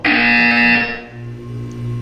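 An electronic buzzer in the video game Portal 2 blares a single loud, harsh tone for about a second, then gives way to a lower lingering hum.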